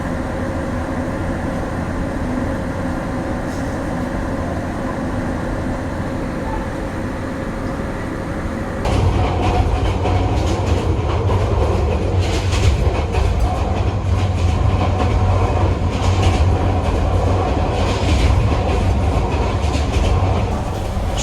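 The Mohanagar Express passenger train pulls into platform one at Brahmanbaria station on a rainy night. A loud, steady rumble of wheels and carriages swells partway through, with clattering rail joints and hollow rattles close by.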